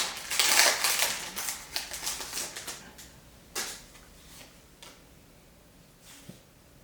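Crinkly foil Pokémon booster packs being torn open, a burst of close crackling and ripping at first, then sparse sharp plastic snaps and rustles fading out.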